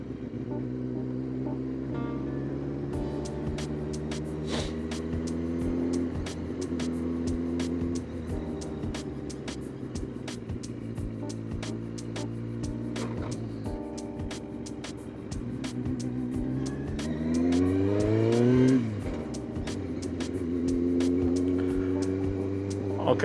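A Kawasaki ZX9R motorcycle engine hums and rises and falls in pitch through several revs and gear changes, with Birmingham traffic noise around it, steady and fairly close.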